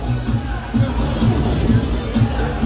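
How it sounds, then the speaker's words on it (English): Hockey arena crowd before a game between the Frontenac Phantoms and Barry's Bay Wolves: steady loud crowd roar and murmur filling the building, with repeated low thumps pulsing through it at a regular beat. "As we get set and we get settled, let's just take in the crowd for a moment. It is always loud in here."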